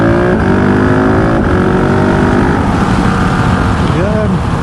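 Husqvarna 701 Rally single-cylinder motorcycle engine running loud and close with wind rush, holding a steady drone before a quick rev climbs and falls near the end.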